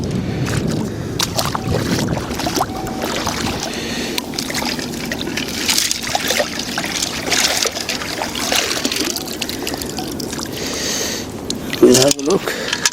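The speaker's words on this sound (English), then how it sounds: "I'll just give it a rinse in the water here." A copper metal find is rinsed in shallow sea water on a beach, with trickling and sloshing water under steady wind noise and a brief louder splash near the end.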